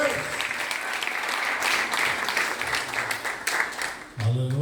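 A church congregation applauds during a Portuguese-language worship service, a dense, steady wash of clapping that fills the room for several seconds before a voice begins speaking near the end.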